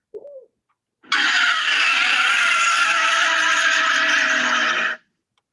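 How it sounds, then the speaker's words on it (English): A car skids on a slick, storm-soaked road, one loud sustained screech of tires lasting about four seconds before cutting off abruptly, preceded by a brief faint sound. "The road's too slick. I can't stop the car."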